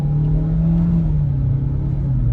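A 2022 Kia Forte LXS with a CVT hums under load as engine pitch slides gradually downward through a simulated gear change, a close, steady in-cabin drone without talk.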